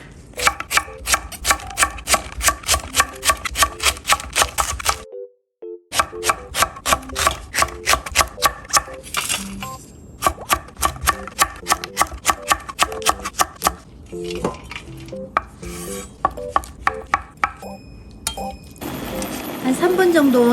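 A knife slices ingredients thinly on a cutting board in quick, evenly spaced chops that carry on for about twenty seconds, broken by one short pause near the start and a few brief gaps later.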